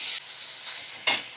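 Potatoes frying with cashews, raisins and ginger-garlic paste give a soft, steady sizzle, with three short bursts of hiss as the pan is stirred, the last one loudest.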